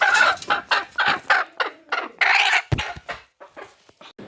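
Hens cluck near their cage in a lively series of loud, close, rhythmic clucks and squawks that trail off toward the end.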